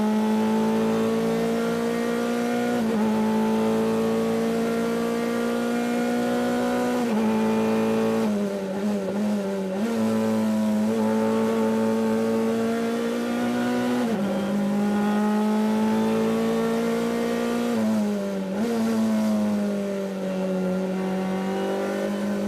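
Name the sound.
race cars lapping at Watkins Glen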